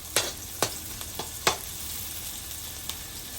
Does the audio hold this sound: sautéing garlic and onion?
yes